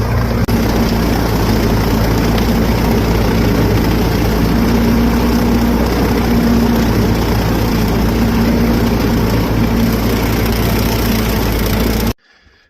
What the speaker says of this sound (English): Have to take little swaths of big grass with this little tractor.